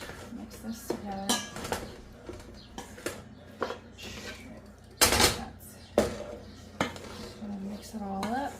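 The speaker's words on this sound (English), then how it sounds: "we're going to mix this together." A spoon stirs beef stew ingredients in a metal pot, making close, repeated scraping and clinking against the sides in an uneven rhythm, with brief voice sounds in between.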